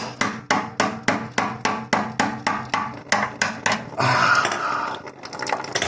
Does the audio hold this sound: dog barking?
no